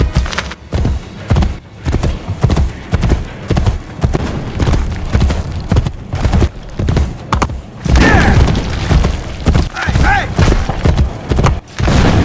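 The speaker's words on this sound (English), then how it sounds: "Faster to travel by horse." A horse gallops in Assassin's Creed: Brotherhood, a continuous rapid clip-clop of hooves, loud and close, with a whinny and game sounds mixed in.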